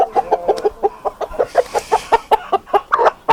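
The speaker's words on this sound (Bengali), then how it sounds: "এই যে মোরগটা এই মোরগটা একটু দেখে দেখেন সাইজটা দেখেন" A rooster on a Tiger chicken farm clucks in a rapid, rhythmic series of close, loud, clipped calls.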